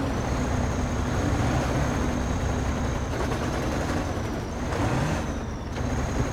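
In the video game SnowRunner, a truck engine with a damaged engine drones in a steady, loud, low rumble with a faint high whine, running continuously.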